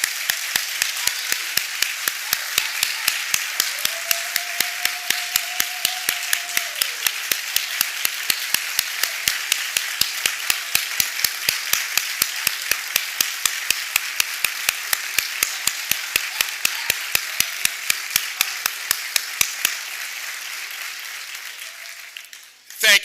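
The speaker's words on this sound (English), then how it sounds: "I want us to join in an applause for him today." An audience applauds a guest speaker with sustained, steady clapping that holds an even, rhythmic pulse for about twenty seconds before stopping abruptly.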